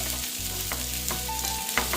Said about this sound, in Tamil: லைட்டாக வதக்கிக்கோங்க